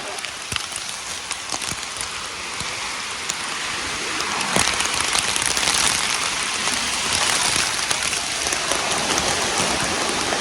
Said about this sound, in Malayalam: നല്ല മഴ നല്ല കാറ്റോ.